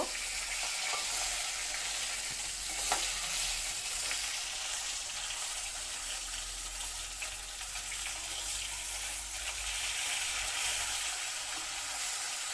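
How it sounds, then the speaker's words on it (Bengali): Rohu fish heads frying in oil with turmeric and a little salt, a steady close sizzle with occasional stirring scrapes running throughout, no voices. "এবার মাছের মাথাগুলি ভালো করে ভাজা করা হইব"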